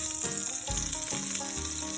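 Duck breast with its fat rendered out sizzles steadily in a pan as gumbo is being made, a loud, close, continuous frying crackle with no talk.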